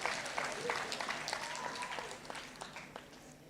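An audience at a Jamaican long service awards ceremony gives faint, steady applause that continues throughout, with a voice faintly audible underneath.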